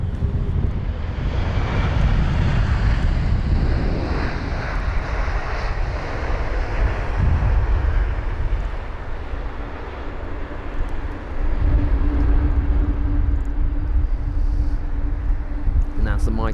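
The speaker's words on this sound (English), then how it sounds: "this 777-200ER aircraft is going to be arriving from San Francisco, flight number UA930, a 9 hour and 36-minute long journey" A United Boeing 777-200ER airliner arriving from San Francisco lands at Heathrow, its engines a loud, sustained jet roar that swells and fades over the whole stretch, with a voice heard talking beneath the engine noise.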